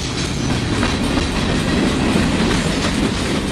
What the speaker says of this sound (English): Moving these trains up and down the track